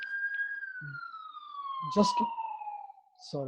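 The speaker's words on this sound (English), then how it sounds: "there is siren here" A wailing emergency siren glides slowly downward in pitch, sustained through the whole stretch at moderate distance, with brief bursts of people talking over it.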